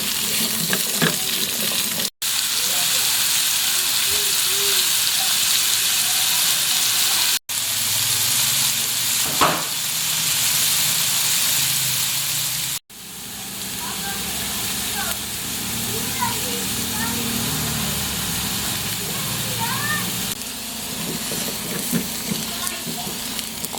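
Carrots and potatoes frying in a pan with occasional stirring, a steady close sizzle broken by brief scraping stirs, with a voice talking over it.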